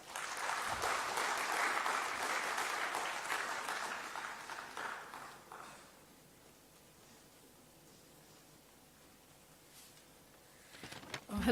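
Workshop attendees at a power engineering event give a round of applause for their professor; moderately loud clapping for about six seconds, then fading to a quiet room.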